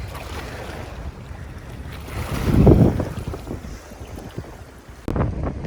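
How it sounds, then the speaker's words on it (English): Heavy wind buffeting the microphone on a foggy day, a loud low rumble that surges in the middle and again near the end, with faint water noise beneath. "It's super windy, so I don't even know if you can hear me"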